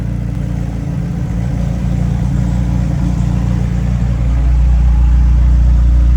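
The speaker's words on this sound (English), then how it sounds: "Engine's idling good." A car engine idles loudly and close in a workshop, holding a steady low rumble that rises in pitch and intensity toward the end as it revs, with no talking.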